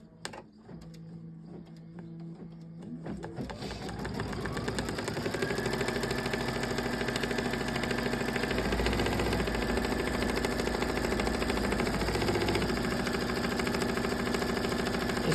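An Aveneer embroidery machine starts up and settles into a steady, fast mechanical chatter of rapid needle stitching, loud and continuous for the whole stretch with no voices over it.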